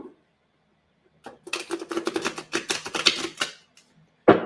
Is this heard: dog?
no